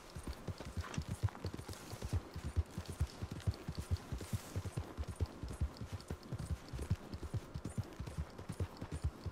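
Horse hooves galloping in Red Dead Redemption 2, a steady rapid clip-clop rhythm of hoofbeats running throughout, close and fairly loud, with no talk over it.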